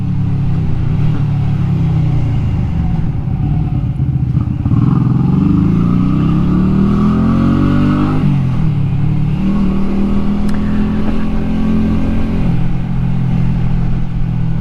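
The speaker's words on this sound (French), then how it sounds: "C'est le Shadow 125 de chez Honda." A 1999 first-version Honda Shadow 125 custom motorcycle engine runs steadily close by, its low rumble swelling as it revs up twice and then settling back to a loud, even idle, with no talk.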